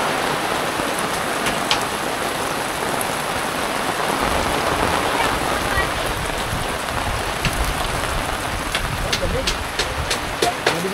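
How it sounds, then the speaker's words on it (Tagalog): Heavy rain from a typhoon pours steadily on a farm, with a dense hiss and drops spattering on nearby surfaces; voices talk now and then beneath it. "Bumagsak na naman yung ulan."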